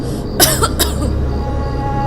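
A woman coughs in smoke, two sharp close coughs followed by a quieter throat-clearing rasp over a steady low background drone.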